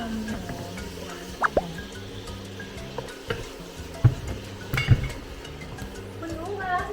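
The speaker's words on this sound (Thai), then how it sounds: "ใส่น้ำปลานิดๆเพื่อความหอมหวาน" Fish sauce is poured into a pot of Thai rice porridge, producing a few small liquid plops and drips amid light pot clinks, with a voice talking over it.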